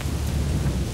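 Thunder rumbling low and heavy over steady rainfall during a storm in the game Assassin's Creed III in New York, a dense continuous wash of sound with no voices.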